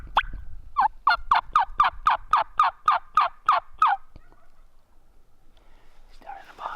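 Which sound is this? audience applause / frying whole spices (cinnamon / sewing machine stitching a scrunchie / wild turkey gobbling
wild turkey gobbling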